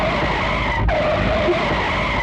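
A jeep driven fast over a rough, broken road, its tires skidding with a loud sustained squeal and engine roar, close and continuous with no speech.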